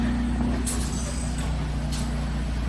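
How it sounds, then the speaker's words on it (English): A spray foam insulation truck idles at a barndominium site, its steady low engine rumble running continuously and close throughout, with faint brief hisses on top. "That's the insulation truck."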